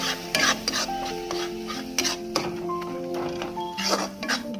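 Spices roasting in a pan for a besan sabji are stirred with a spoon, making repeated scraping and clinking strokes against the metal over a soft sizzle, close up.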